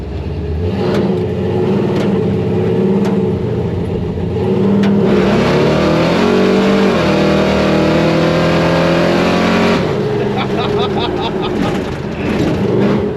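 A 1955 Chevy accelerates hard down the road, its engine roaring loud and close with rising harmonic pitch that climbs, shifts, and climbs again, while a voice talks briefly over it.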